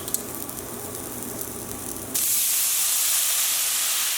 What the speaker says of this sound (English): I'm going to add the white wine.